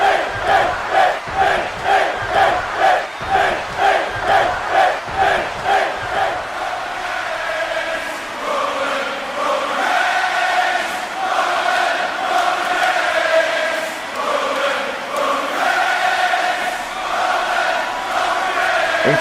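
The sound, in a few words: wrestling show crowd cheering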